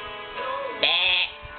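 Human voice imitating a sheep's bleat, one wavering nasal baa rising into a brighter held note before fading, close and alone.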